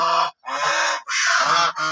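Raja hans ducks honking loudly and close by in three dense bursts of harsh, nasal calls with only brief gaps between them.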